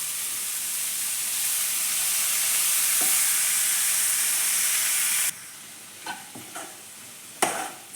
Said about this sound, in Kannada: ಕಟ್ ಮಾಡಿ ಇಟ್ಕೊಂಡಿರೋಂಥ ಮೆಂತ್ಯ ಸೊಪ್ಪು ಹಾಕ್ಕೋತಾ ಇದ್ದೀನಿ.